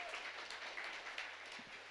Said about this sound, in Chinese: 那再给他一次更热烈的掌声好吗？